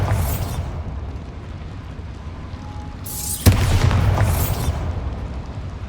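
A Bombarda spell detonates inside a small mine in Hogwarts Legacy: one sudden loud blast about midway, its rumbling roar trailing off over the next couple of seconds above a low background drone.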